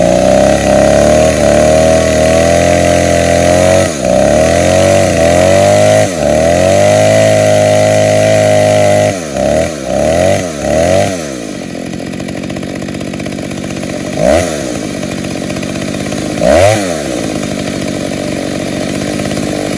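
A vintage Stihl 08S chainsaw engine runs loud and close, holding a steady high idle for several seconds, then revving in a series of quick bursts that fall back, with two more isolated blips near the end.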